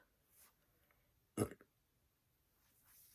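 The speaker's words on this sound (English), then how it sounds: "I keep burping" A single short burp, faint overall but the one clear burst in otherwise quiet surroundings, with a little soft noise before and after.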